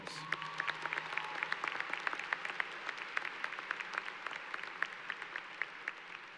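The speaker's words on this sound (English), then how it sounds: "Give her another big round of applause." Sustained audience applause at a 2017 college commencement ceremony, a dense wash of many hands clapping steadily at moderate distance for several seconds, no talking over it.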